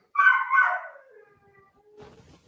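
A single dog lets out a loud, close, wavering howl that fades away, followed by a faint low rustle.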